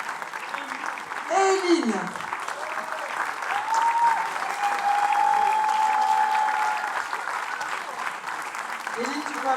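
Audience applause at a 2024 school ensemble class concert, steady loud clapping from a crowd throughout, with a presenter's voice calling a name over it and a sustained musical tone sounding in the middle.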